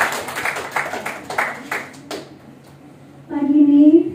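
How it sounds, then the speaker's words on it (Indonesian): Students in a classroom clap in several short bursts near the mic, with a voice rising briefly at the end. "Ya, tepuk tangan."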